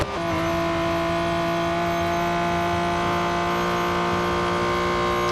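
Porsche 718 Cayman GT4 Clubsport racing engine in Real Racing 3, a loud steady tonal drone held at high revs throughout, close and continuous with no talking.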